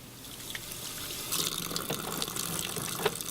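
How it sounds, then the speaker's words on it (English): Tap water runs steadily into a sink during handwashing in a food-preparation kitchen, a soft continuous splashing stream with a few louder splashes and drips, fairly quiet and alone. "Wash hands."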